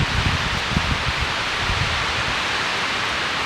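Steady, loud rushing wind blows across the microphone, a constant broadband roar with low buffeting thumps early on.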